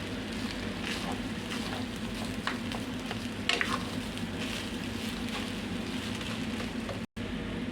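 Sinangag, Filipino garlic fried rice seasoned with soy sauce, sizzling steadily in a pan with occasional scraping stirs of a spatula and a brief cut near the end, all without talk.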